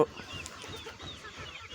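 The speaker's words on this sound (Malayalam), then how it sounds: "മൊത്തം വലിയ കോഴികളാണ് കേട്ടോ" Large adult chickens on a farm cluck and murmur steadily in a busy flock, a continuous low chatter of fowl with occasional sharper calls.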